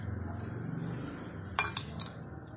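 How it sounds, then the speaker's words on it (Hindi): Chicken pieces drop into a bowl of gram flour batter, a few quick clinks and soft wet knocks against the bowl near the end over faint room hum. "अब हम बेसन में थोड़ा थोड़ा करके चिकन को डालेंगे।"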